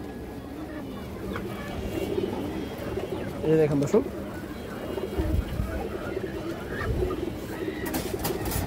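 A large, fresh pigeon of an old bloodline gives a short burst of low cooing midway, close by, beneath someone talking over faint background noise.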